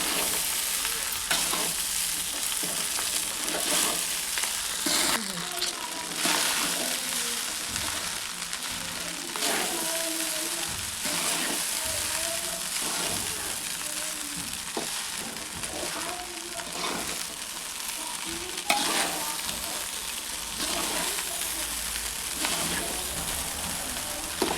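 Vegetable rice fries in a pan while being stirred, giving a steady crackling sizzle broken by repeated scraping strokes of the spoon, close and continuous with no talk.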